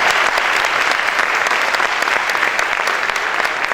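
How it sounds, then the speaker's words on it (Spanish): Audience applause for a keynote speaker at a university architecture conference, dense sustained clapping from a large crowd filling the room evenly throughout. "Les pido la amabilidad de darle un fuerte aplauso a nuestra conferencista magistral."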